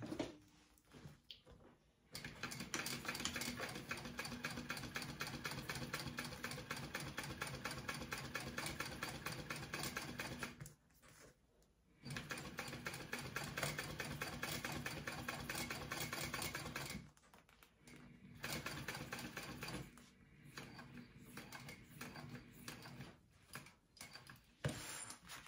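Sewing machine with a walking foot stitching through vinyl, a steady mechanical whirring run in long bursts separated by brief pauses, fairly faint and close with no talking.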